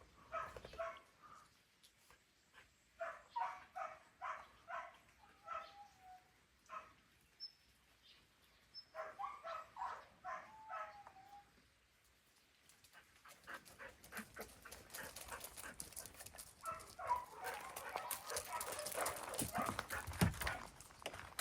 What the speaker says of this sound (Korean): 안에 개들이 짖는 소리 듣고서.